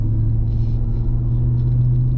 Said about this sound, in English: you can hear the supercharger whine in the background